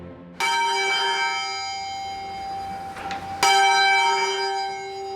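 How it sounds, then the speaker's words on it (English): The church bells of St Mary-le-Bow in London ring out in two strong, sustained strikes a few seconds apart, each leaving a long shimmering hum that fades between them. "These are the Bow bells, arguably the most famous bells in London."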